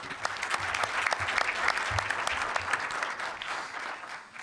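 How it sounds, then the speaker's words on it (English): An audience at a civic forum on energy and Latino communities breaks into a round of applause for a woman, steady dense clapping filling the room throughout, fairly close and moderately loud with no voices on top. "Give her a round of applause, folks."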